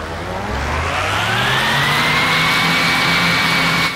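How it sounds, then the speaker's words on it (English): A piston aircraft engine in the flight game Flyout roars steadily at high power, a loud, dense drone with a whine that climbs in pitch and then holds, continuous and alone without talk. "as you can tell by the noise and the red exhaust, things are going pretty well for this engine right now"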